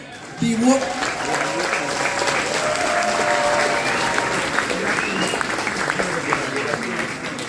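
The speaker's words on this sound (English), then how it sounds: "let's give a big round of applause to our hosts." Sustained audience applause at a lunch gathering in a kibbutz community, a broad steady wash of clapping that begins suddenly and lasts several seconds, with voices calling out over it.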